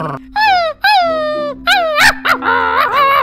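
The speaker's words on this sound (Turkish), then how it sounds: "Evet, gördüğünüz gibi iki köpeğimiz de gerçekten çok sinirliler." Two angry dogs in a Minecraft game fight with loud, close, wavering yelps, whines and howl-like cries in rapid overlapping bursts.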